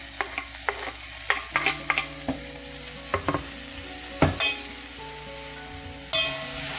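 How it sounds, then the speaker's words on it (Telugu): Tomato pieces, mint and coriander tossed into a hot pan for rasam, oil sizzling steadily underneath while a spoon scrapes and stirs in quick repeated strokes, with a louder clatter near the end. "ఇందులోన ఇప్పుడు నేను టొమాటో కట్ చేసుకున్న టొమాటో ముక్కలు మరియు పుదీనా, కొత్తిమీర వేసేస్తున్నాను"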